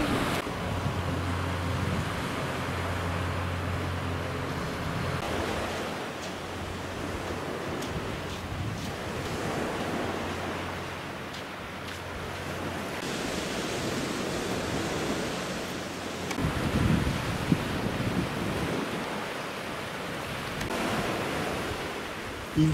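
Steady surf washes onto a beach on the Breton coast near Dinard, Saint-Malo and Paramé, a continuous broad roar of breaking waves with wind noise and no voices.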